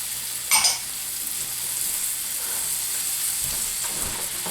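Mushrooms and onions for beef stroganoff simmer in a pan with a steady, close frying sizzle and hiss. A single brief clink of a utensil sounds near the start.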